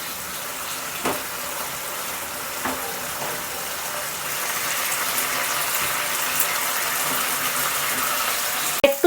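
Water poured into a pan of boiled potatoes being mashed with a spatula for Bankura-style aloo posto, a steady close gush lasting several seconds with a few small clanks of the utensil.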